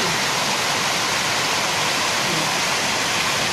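Tengkorak waterfall with very clear water, a steady, dense roar of falling water that fills the whole clip, loud and close with no talking.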